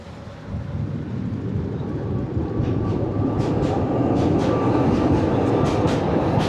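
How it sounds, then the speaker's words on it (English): A tram crossing a bridge in Budapest rumbles past nearby with a deep, rising roar and faint rail squeals and clatter, growing louder as it goes by. "I can feel the tram going by on the bridge."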